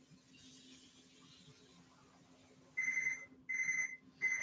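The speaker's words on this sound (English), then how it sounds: "So the timer has went off." A kitchen timer goes off with loud, high electronic beeps in three bursts near the end, after a few seconds of quiet low hum.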